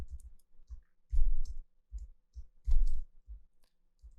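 Keys on a computer keyboard tapped in short bursts, a few quick clicks at a time with brief pauses between, close and fairly quiet.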